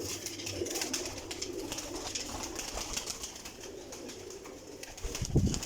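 Pigeons of a breeder's flock kept indoors coo softly and repeatedly at close range over a hushed background, with a brief flutter of movement near the end.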